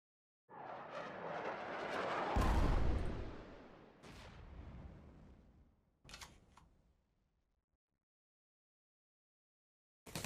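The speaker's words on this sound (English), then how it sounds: "I have to use the V1 flying bomb" A V1 flying bomb attack in the WWII card game KARDS: a rising rush and a heavy explosive blast that trails off, then a few sharp, clicky impacts before silence.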